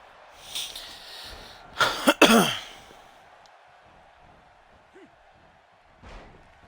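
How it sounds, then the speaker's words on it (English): In the video game WWE 2K17, a harsh, raspy cough bursts out in a quick cluster of hacks, followed by a few quieter breaths and small sounds afterward. "Ooh, that was a bad cough right there."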